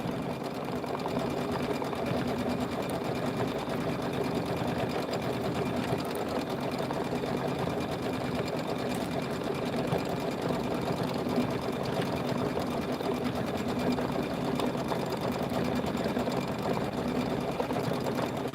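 A sewing machine runs steadily throughout, quilting stitches on small zippered bags, a continuous close mechanical whir and hum with no pauses or talk.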